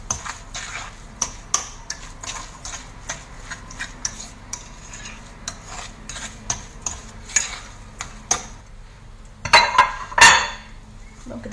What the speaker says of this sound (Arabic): صافي نخلط هاد المكونات هادي مع بعضياتها